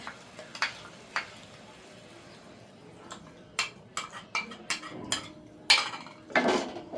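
Mustard and green chilli paste being stirred into a pot of boiling water for Bengali ilish bhapa, heard as scattered spoon scrapes and metallic clinks against the vessel over a faint background hiss.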